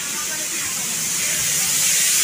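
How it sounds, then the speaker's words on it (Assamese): Steady hissing sizzle of vegetables frying in a pan in a home kitchen, close and loud, building slightly in intensity over a couple of seconds. "এয়া ভাজি বনাই আছে"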